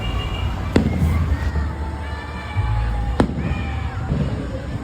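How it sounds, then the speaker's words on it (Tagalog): Night holiday fireworks at the Enchanted Kingdom theme park: two sharp, distant bangs a few seconds apart over a steady rumble and crowd murmur. "meron pa fireworks doon sa Enchanted Kingdom since gabi na and holiday"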